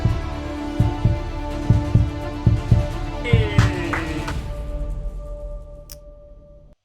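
Heavy thumping heartbeat effect in a trailer, paired double beats repeating steadily at close range over a low hum, the last beats overlapped by a sweeping tonal rise before the sound fades out.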